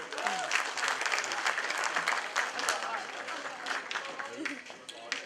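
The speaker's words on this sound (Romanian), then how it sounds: "Aplauze!" Sustained applause from an audience at a Romanian folk ensemble award ceremony, a dense, steady wash of many hands clapping at close range, with some crowd voices mixed in beneath.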